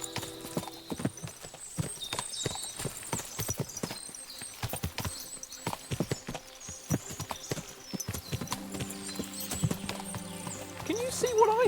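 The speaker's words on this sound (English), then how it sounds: "What a lot of horses." Several horses clip-clop with irregular hoofbeats and give an occasional neigh near a medieval estate in the video game Kingdom Come: Deliverance 2, with faint voices in the background.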